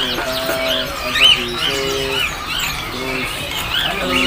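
Caged songbirds at a bird-market kiosk in Pramuka, including red birds, canaries and other species, give busy overlapping chirps and short whistled calls throughout, close and fairly loud against a steady market hubbub.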